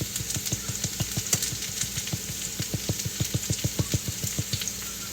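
Potatoes and onions frying in a pan on a home stove, a steady close sizzle with rapid, regular crackling pops throughout, alone with no talking.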